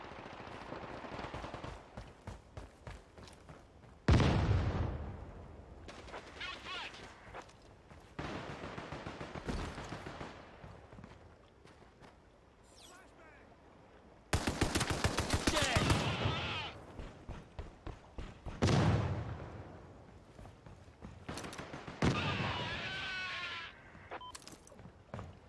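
Gunfire in the shooter game Caliber, sharp bursts and single shots erupting at intervals amid combat noise, some loud and close, others more distant, with players talking over parts of it.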